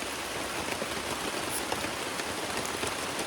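Rain pattering steadily on a campsite along a long-distance hiking trail, a soft, even hiss of drops on surfaces with no voices.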